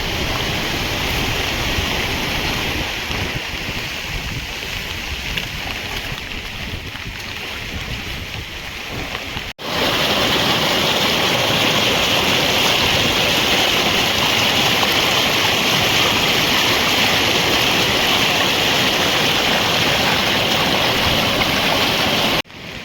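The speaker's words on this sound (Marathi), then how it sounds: "किती जोराचा पाऊस झाला आहे हे बघा रस्त्याच्या वरून पाणी" Heavy monsoon rain sends water rushing over a road in Konkan, a loud, dense, unbroken roar of flowing water and downpour that continues without pause, with a brief break partway through.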